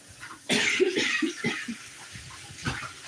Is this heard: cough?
yes